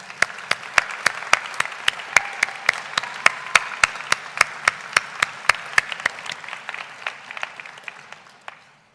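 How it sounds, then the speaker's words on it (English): Audience at a college spring convocation ceremony applauds steadily, a dense wash of many hands with sharp individual claps standing out, close and loud, tapering off near the end. "Let's applaud them one more time."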